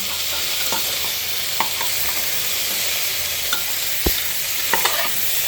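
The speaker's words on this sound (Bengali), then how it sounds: "তার মানে মোটামুটি আমাদের সবজি ফ্রাই হয়ে গেছে।" Cauliflower and other vegetables fry in a pan with a steady loud sizzle, broken by occasional sharp clicks and scrapes of stirring, with no one talking.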